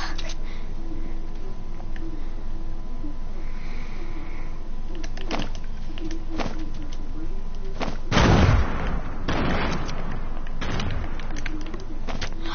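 Grenades go off in Fortnite gameplay: several scattered thumps, with one big low blast just past the middle and smaller bursts after, over a steady game background.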